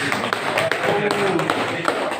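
Hands clapping in a classroom or teachers' session, a scattered run of claps under a steady wash of voices.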